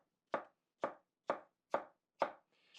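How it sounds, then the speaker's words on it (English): A knife chops a cucumber into chunky bits on a cutting board, landing about six crisp, evenly spaced strokes roughly half a second apart, close and clear with no talk. "Then I cut them into quarters lengthwise, and finally into kind of chunky bits like this."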